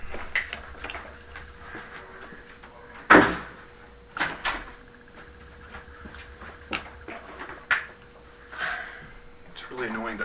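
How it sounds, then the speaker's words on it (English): A room door is shut with a sharp thud, followed by a few lighter knocks and bumps, heard close in a quiet indoor space. "Let me just close my door."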